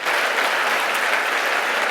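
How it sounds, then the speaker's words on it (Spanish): A church congregation claps loudly and continuously, a dense, even roar of applause filling the hall throughout with no talk over it. "Dale ese fuerte aplauso a Él."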